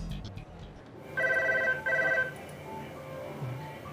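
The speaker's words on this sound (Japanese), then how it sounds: "館内外からの電話をつなぐ店内案内。" An electronic telephone ringer sounds two short bursts at a department store switchboard in Niigata Isetan, clear and moderately loud over quiet room tone.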